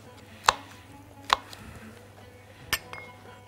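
A knife chops a chili pepper pod on a board in a home kitchen, three sharp separate strikes spaced apart and close by, with no talk.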